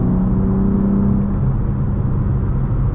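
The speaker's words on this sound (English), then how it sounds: "Let's give it a little bit of gas here." A BMW G87 M2 running an M2CS tune pulls under throttle from inside the cabin, a loud, deep engine drone with a rising tone early on that settles into a steady rumbling whir.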